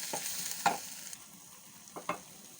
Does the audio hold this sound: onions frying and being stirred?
yes